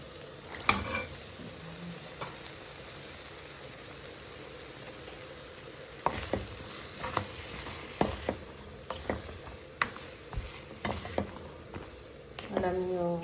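Chayote fries in a pan with a soft continuous sizzle, punctuated by sharp scraping and stirring clacks of a utensil at an irregular rhythm, heard fairly quietly.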